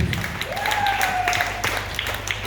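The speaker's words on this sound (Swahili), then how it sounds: "Shangilie Yesu. Piga makofi." A congregation claps along in a steady, rhythmic beat, with a sustained tone gliding upward and holding over the clapping.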